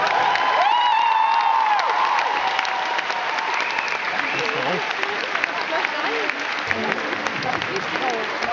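A convention panel audience claps and laughs steadily throughout, the dense applause continuing over scattered cheers while voices talk within the crowd.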